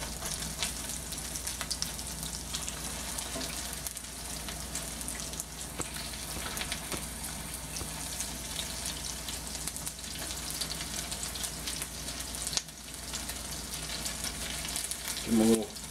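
Spinach latkes sizzle steadily in a frying pan, a continuous crackling fry with a brief clink as they are turned near the end.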